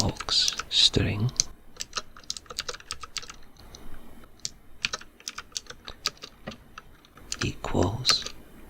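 Fingers tap quick, irregular bursts of keystrokes on a computer keyboard while someone speaks softly throughout.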